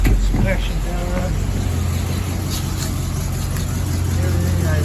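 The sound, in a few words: step van engine running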